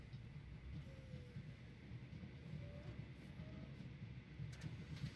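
Passenger trains run on the tracks of the Train Valley 2 puzzle game, Switzerland level, giving a steady low rail rumble with faint clatter, soft and continuous throughout, no talking.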